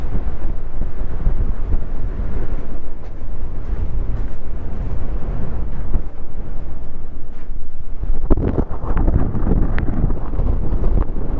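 Strong, constant wind roars across the microphone at a US Navy DC-3 Dakota plane wreck, a dense, unbroken buffeting rumble with a heavier gust near the end.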